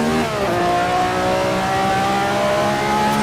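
Racing car engine in Assetto Corsa on the 1967 Monza circuit, loud and close, blipping and revving through a heel-toe downshift with rising and falling engine pitch and a sustained high rev across the clip.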